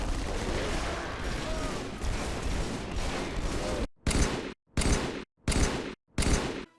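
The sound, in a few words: battle rifle gunfire in a Halo video game overhaul mod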